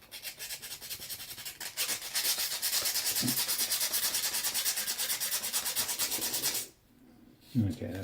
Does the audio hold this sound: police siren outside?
no